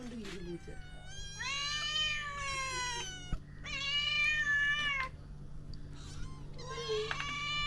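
A pet cat gives several drawn-out, close meows in quick succession, some rising and falling in pitch, over a low steady background hum.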